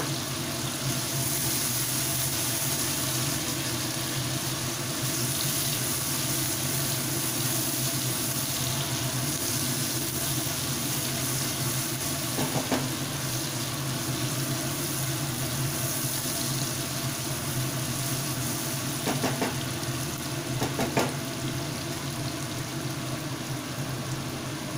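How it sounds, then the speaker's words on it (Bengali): Onions fry in a pan, a soft, steady sizzle held at an even level, with a few faint clinks of utensils and no talk. "পেঁয়াজগুলো কিন্তু মোটামুটি ভাজা হয়ে এসছে"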